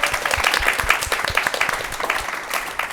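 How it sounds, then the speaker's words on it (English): An audience at a live pitch competition claps together in a loud, dense round of applause that holds steady throughout. "another round of applause for Fina."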